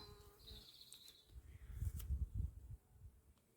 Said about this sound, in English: it's really buzzing with bees at the moment.